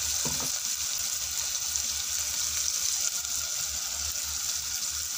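Ingredients roasting in a pan with rock salt for a fasting-day sama rice pulao, giving a steady, even sizzling hiss that runs unbroken and fairly quiet throughout.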